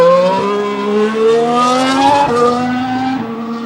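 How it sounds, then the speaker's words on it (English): A Mercedes Formula 1 car driven by Rosberg accelerates hard at Jerez pre-season testing, its high-pitched engine climbing loud and close through quick upshifts with sharp pitch drops. "let's just take one more look at Rosberg on track, getting on the power"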